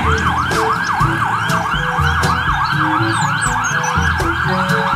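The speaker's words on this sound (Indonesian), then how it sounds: "Yang ini ada mobil ambulans." A toy ambulance's siren wails in rapid, repeating rising-and-falling sweeps, loud and close, with a few clicks and tones from the toy underneath.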